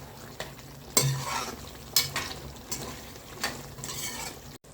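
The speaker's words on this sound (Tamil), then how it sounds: "கிண்டி விட்டுக்குவோம் கொஞ்சம்." Chicken liver frying in a pan with masala and water cooking down, stirred with a metal spoon: a few sharp scrapes and clinks at roughly one-second intervals over a soft steady sizzle, close by.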